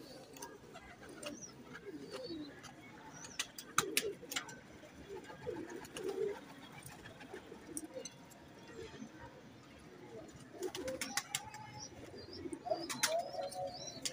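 A female diamond-eyed pigeon coos faintly among other pigeons, with soft low murmurs, scattered chirps, occasional wing flaps and clicks in a quiet loft.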